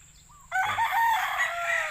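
A rooster crows once, loud and close, in a sustained cock-a-doodle-doo that starts abruptly and carries on for about a second and a half against a quiet background.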